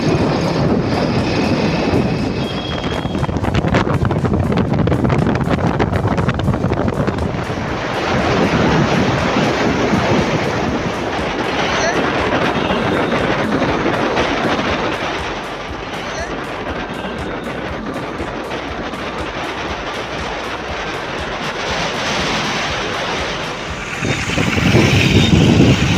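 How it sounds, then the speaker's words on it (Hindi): Heavy, continuous roar of a moving vehicle on a hilly road, loud broadband rushing noise with slight swells and dips throughout, no clear speech on top. "हमारी आवाज़ सुनाई नहीं दे रहा होगा क्योंकि गाड़ी चल रही है, बहुत आवाज़ आ रही है"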